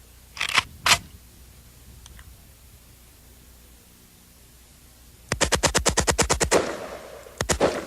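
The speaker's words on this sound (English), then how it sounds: "It'll fire until you either release the trigger or you expend all the rounds." An AK-47 firing fully automatic: two single sharp shots first, then after a quiet pause a long rapid burst of about a dozen loud rounds, followed by a couple more shots.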